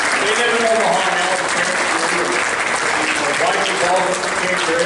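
An audience at a college athletics hall of fame induction ceremony applauds the Deterding family, a dense, loud, steady clapping from a hall crowd that continues throughout, with voices mixed in.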